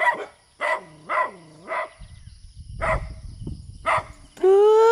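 A dog barks outdoors in a string of sharp, separate barks, about seven in a row, with a rustling scuffle between them and a loud tonal noise cutting in at the very end.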